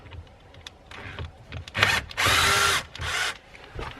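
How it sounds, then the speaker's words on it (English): A power drill removes screws from a Jeep Gladiator dash bezel, with short whirring bursts of the motor, the longest in the middle, separated by quiet handling noises. "I'm going to use a drill, hopefully."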